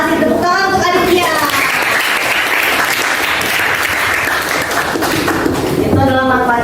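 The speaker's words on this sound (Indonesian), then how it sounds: "tepuk tangan untuk Aditya" Sustained applause for a presenter named Aditya fills a classroom session, broad and steady through the middle. A voice speaks at the start and end.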